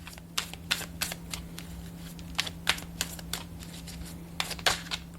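Slippery tarot cards are shuffled by hand, giving bursts of crisp riffling snaps in irregular clusters over a low constant hum, with no speech.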